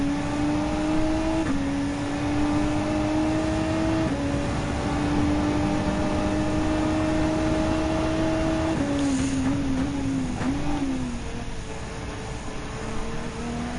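Engine of a Lexus RC F GT3 race car in Gran Turismo 7, a steady mid-pitched drone that climbs and drops through gear shifts, holding fairly loud with a brief dip in revs near the end.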